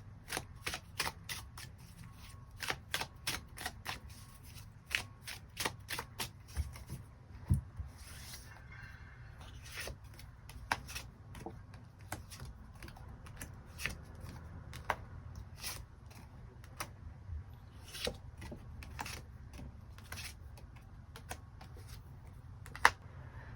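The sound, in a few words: tarot cards being shuffled and drawn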